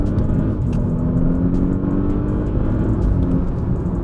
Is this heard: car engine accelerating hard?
yes